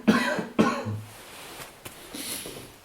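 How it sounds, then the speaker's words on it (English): Two close, loud coughs in a dusty room, each a sharp, harsh burst, followed by quiet room sound and faint movement. "I'm just going to cough, it's a bit dusty in here."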